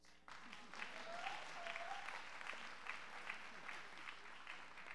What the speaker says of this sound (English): Then clap your hands.